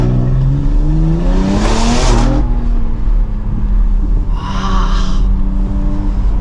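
Stage 2+ BMW X3M engine overrun on a gear change, with a deep droning exhaust and a loud burst of crackle near the start, followed by a shorter second pop, heard close from inside the car without talk.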